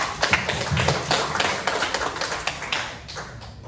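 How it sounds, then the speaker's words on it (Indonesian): An audience claps for Kak Yaya at a public speaking event, a brisk round of applause with crisp overlapping claps that holds steady and then thins out toward the end. "boleh beri tepuk tangan dong buat Kak Yaya"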